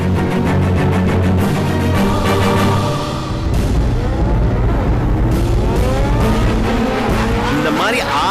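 Race cars roar with squealing, skidding tires at a racing event, the engine and tire noise loud and continuous with voices talking over it.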